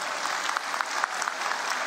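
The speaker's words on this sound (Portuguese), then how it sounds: "o pessoal aplaudir aí você como você merece" Applause at Brazil's National Education Conference at UnB, a dense, steady crowd clapping with scattered sharper claps standing out, heard at moderate distance and sustained throughout.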